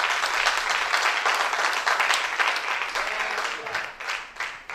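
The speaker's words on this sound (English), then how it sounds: "Somebody give the Lord a clap offering today." Congregation applauding during a church anniversary service, a dense, steady wash of many hands clapping that holds loud for several seconds and thins slightly toward the end.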